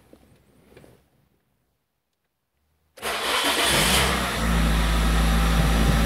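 A car powered by a tiny RC LiPo battery pack goes quiet, then its engine cranks and catches abruptly, settling into a loud, steady idle heard up close with no talking.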